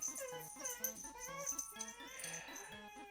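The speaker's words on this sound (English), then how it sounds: "I'm going to kill these dogs for whining in a minute, because even he's beginning to whine" Dogs whine indoors in high, wavering whimpers, repeated and close, mixed over quiet background music during a live bobbin lace stream.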